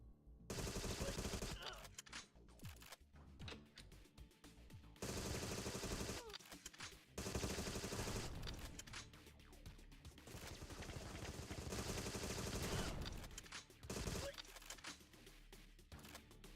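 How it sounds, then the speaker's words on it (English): Rapid automatic weapon fire in the shooter game Agent 64, from a fairly inaccurate gun. Dense bursts of shots repeat again and again, loud and close, with short pauses between volleys. "This gun's fairly inaccurate, but I think this is my favorite automatic weapon in the game so far."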